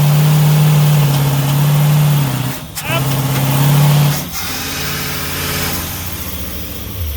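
A loud motorhome engine drones steadily with a low hum that dips briefly twice, running close by, sounding off, with sparks coming from the exhaust.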